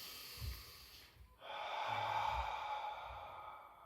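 A deep, audible inhale during an exercise session, with a short huff of breath first and then a long, steady intake of air close to the microphone in a quiet room.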